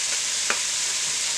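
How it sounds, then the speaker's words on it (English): Garlic paste going into a pan of onions for French onion soup, giving a steady broadband sizzle with one brief scrape, close and continuous without talk. "Back with the onions, going to put the pasted garlic in"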